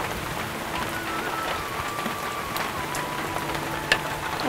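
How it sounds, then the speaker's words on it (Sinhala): Steady rain patters on a surface outdoors on a rainy day in a Sri Lankan village, a dense even hiss of drops with occasional louder splashes, continuous and fairly close, with no talking. "අද වැස්ස දවසක් නේ."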